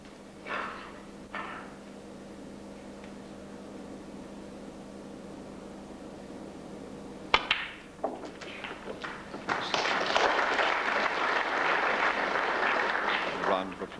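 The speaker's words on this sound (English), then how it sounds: "A round of applause, not for the easy black" Snooker audience at the 1999 World Championship semi-final breaking into sustained applause, a dense wash of clapping rising after a couple of cue-ball knocks, heard in a large hall with some talk.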